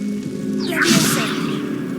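A short magical swoosh from a Leviosa spell cast in Hogwarts Legacy, a single airy whoosh rising and fading over about a second above a steady game ambience.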